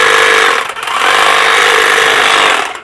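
Close, loud buzzing whine of a commercial battery hedge trimmer running, a steady high motor drone with a brief dip early on before cutting off at the end.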